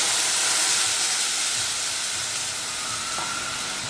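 Water poured into a hot pan for a paneer shashlik sizzler gives a loud, continuous broadband hiss of steam that holds steady and fades slightly toward the end.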